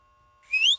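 A player's short rising whistle in Roblox Apeirophobia, used to lure the monster, sounding once, close and clear for about a quarter second over near silence and a faint steady hum.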